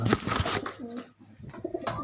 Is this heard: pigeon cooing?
yes